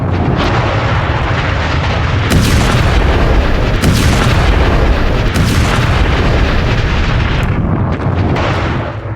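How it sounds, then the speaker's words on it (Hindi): An explosive charge blows up underground Hezbollah tunnel routes, a loud sustained rumbling roar with several heavy booming surges over about nine seconds. "वहां बारूद बिछाया और उसे उड़ा दिया"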